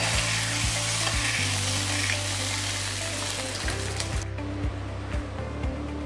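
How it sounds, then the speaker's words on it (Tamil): Hot tempering is poured into coconut chutney and stirred through it, giving a steady loud sizzle and crackle with stirring clatter that ends abruptly near the close; no talking. "இதை எடுத்து நல்லா சட்னியில் ஊற்றிடுங்க."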